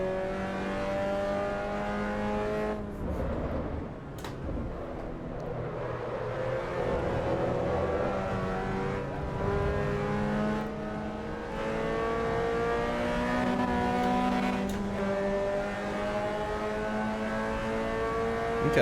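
Racing car engine from the game Assetto Corsa Evo, driven hard over bumps: a loud, steady harmonic drone that rises and falls with revs, with brief thuds and jolts from the bumps and no talking.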